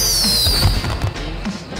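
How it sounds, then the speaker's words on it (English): Fireworks launch and burst in the video game GTA Online, a loud run of crackling pops and thumps with a whistling rocket trail near the start. "The rocket launcher fireworks."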